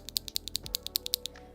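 Rapid clacky mechanical keyboard keystrokes on white Feker switches, about a dozen sharp clicks in an even rhythm, close and crisp with no talking.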